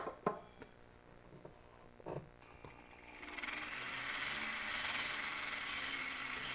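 A metal ring bezel wall on a trillion-cut ring is filed to a sharp edge: a few soft scraping strokes at first, then a louder, continuous rasping grind close by.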